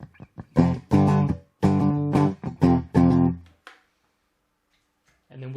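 Clean electric guitar with no overdrive or distortion, a series of ringing strummed chords and short phrases played loud and close, ending abruptly with a brief pause before a final note.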